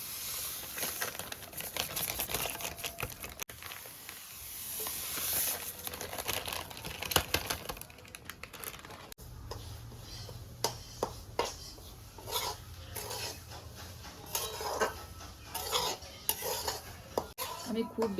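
Dry semolina being roasted and stirred in a dry wok, with soft scraping, rustling and light clinks of the spatula against the metal, fairly quiet and irregular throughout.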